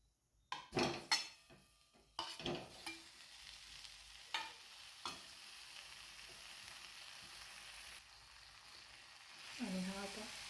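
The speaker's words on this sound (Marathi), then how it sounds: "कढई गरम झालेली आहे यामध्ये आपण खवा घालूयात" Khoa, milk solids, hits a hot wok on the stove, sending out a soft sizzle, with several sharp scraping stirs and clinks of a spatula against the pan, fairly quiet and close, no voices.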